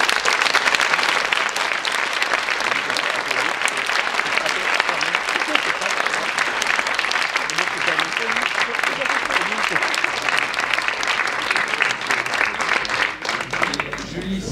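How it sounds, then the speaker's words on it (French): An audience at a science, art and culture conference claps, giving dense, sustained applause that stays loud and even throughout before tapering slightly at the end. "je propose que on s'arrête une seconde, qu'on applaudisse Yves."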